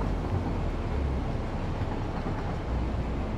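A train in the Satisfactory video game rumbles along the main line, a loud, steady, low mechanical drone that holds throughout without speech.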